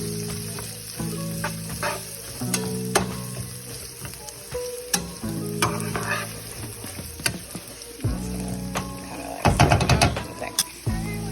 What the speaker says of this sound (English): I'm gonna cook the vegetables. I'm gonna cook for a little bit in the bacon grease.